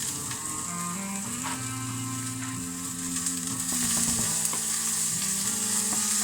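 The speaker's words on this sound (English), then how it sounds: "So we just want to fry these off now, just lightly." Shop-bought chicken kievs fry in a pan in a home kitchen, giving a steady close sizzle that grows slightly louder partway through, with faint scraping clicks.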